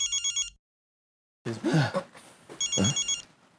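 Phone ringing with an electronic trilling ring, a short burst that cuts out, then returns alongside close throat-clearing or coughing noises, loud and near.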